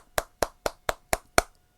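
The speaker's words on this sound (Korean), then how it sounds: "쫘라락 박수." A single person claps six crisp, evenly spaced times in quick succession, close and dry, followed by silence.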